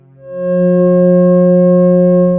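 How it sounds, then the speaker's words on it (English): A steady pair of pure electronic tones, F sharp and the C sharp a fifth above, swelling in quickly and then holding loud and unchanging. "They are F sharp and its perfect harmonic fifth of C sharp."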